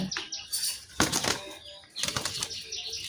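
Young pigeons flap their wings in bursts as they are packed one by one into cartons, close and loud, with several rustling flurries and no talk.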